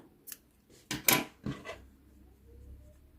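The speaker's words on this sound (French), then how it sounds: "Ce fil, je vais le placer à l'intérieur, je vais le couper un petit peu" Scissors snip crochet yarn on an amigurumi project with a few close, crisp cuts in quick succession. A faint low hum continues afterward.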